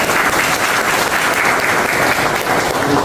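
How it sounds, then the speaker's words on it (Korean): Loud, sustained applause from a large crowd at a meeting with in-house workers of Birla Carbon in Korea, dense steady clapping filling the whole stretch without pause. "다시 한번 큰 박수 부탁드리겠습니다."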